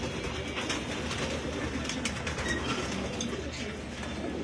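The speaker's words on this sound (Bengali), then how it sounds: "এই যে প্যারা স্টপের সময় যে কবুতরগুলো ভাঙছিল সেই কবুতরগুলোই আমি ধরতেছি" Pigeons in a loft coo faintly and steadily beneath a constant broad background hum, the soft calls blending into the ambient noise without any talking.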